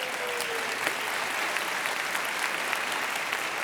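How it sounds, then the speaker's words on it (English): A large conference keynote crowd at Salesforce Dreamforce applauds, a thick, loud, continuous roar of clapping from many people that stays level throughout, with no speech on top. "Give them a round of applause."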